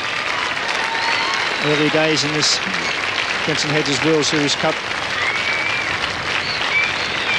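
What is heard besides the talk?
cricket crowd applauding in Hobart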